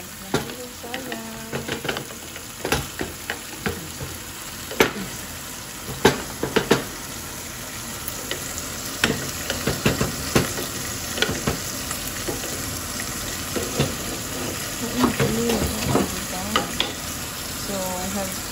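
A tomato stirred into a hot frying pan, steady sizzle and crackle throughout with repeated scraping and clinking of the utensil against the pan, close and fairly loud, no talking.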